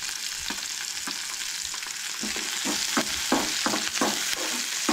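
Onion, garlic, beans and bitter gourd are lightly roasted in a pan for a Goan mixed-vegetable stew, with a steady loud sizzle and repeated scraping stirs of a spatula.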